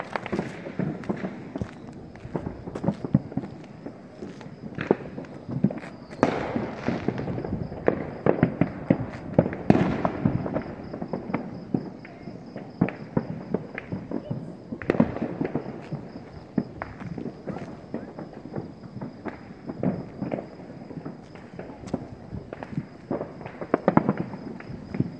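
Scattered Fourth of July fireworks pop and crackle in the distance, heard from a rooftop, irregular bursts continuing over a long stretch, with occasional faint voices and footsteps nearby.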